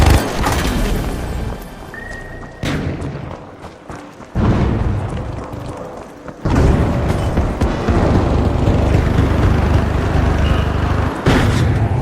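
A frag grenade blast in a 3D Blender fight animation, heard as several loud booms and rumbling bursts spread across a chaotic battle mix with intermittent voices.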